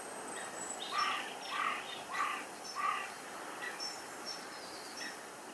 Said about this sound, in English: So that's a coot calling with that sharp metallic alert.